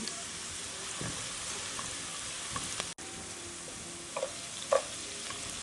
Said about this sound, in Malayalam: ഒരു സവാള ചെറുതായി എറിഞ്ഞത് ഇട്ട് കൊടുക്കാം ഇത് ചോറിന് വേണ്ടി വറുത്ത് കോരി മാറ്റി വെക്കാനുള്ളതാണ്